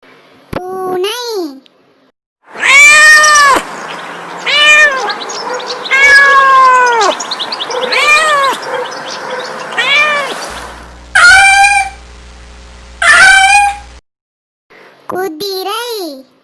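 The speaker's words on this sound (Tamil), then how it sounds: "பூனை" A domestic cat meows several times, clear and close, its drawn-out calls separated by short pauses, with a child-like babbling voice mixed in.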